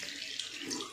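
Water runs steadily from a tap over feet during ablution washing before prayer, a close, continuous splashing hiss with no talking.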